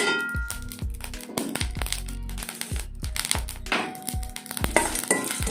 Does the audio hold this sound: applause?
no